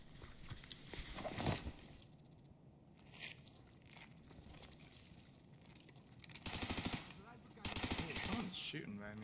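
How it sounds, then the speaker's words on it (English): Gunfire in Escape From Tarkov comes in scattered bursts, some crackling volleys sharp and fairly close. Quieter stretches fall between them, and a voice talks partway through. "Shooting by me."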